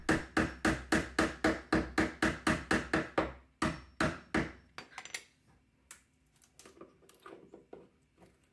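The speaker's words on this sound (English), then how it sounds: "you can just hammer this stuff out" A rapid series of sharp metal-on-metal hammer strikes on a chisel driving out staples, about a dozen in quick rhythm, then slower scattered taps and scraping fading out.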